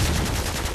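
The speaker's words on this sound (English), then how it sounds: "Some guy's trying to shoot me" Rapid gunfire in the video game Call of Duty 4, a dense, continuous burst of loud shots filling the brief moment.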